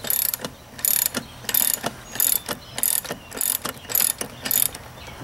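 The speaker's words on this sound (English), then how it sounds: "We're just going to take this nut and back it all the way off." Socket ratchet backing off the propeller nut on a boat motor, a close metallic clicking in steady repeated strokes, about ten even bursts of pawl ticks with no talking.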